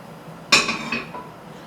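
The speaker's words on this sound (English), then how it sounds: "just scoop them out with a slotted spoon" A slotted spoon scoops fried curry leaves out of hot oil, giving one sudden bright metallic clink followed by a shorter scrape and a faint background sizzle.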